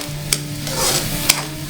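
Garlic butter prawns with a little Sprite sizzle in a pan, a steady close frying hiss with two sharp stirring scrapes and no voices.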